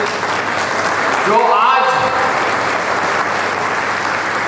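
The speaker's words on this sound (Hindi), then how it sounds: "हमारे पिताजी के लिए भी जोरदार ताली बजा दीजिए" An audience at a Sri Krishna Dutt Academy alumni gathering applauds loudly, a dense, sustained roar of clapping, while someone briefly speaks over it partway through.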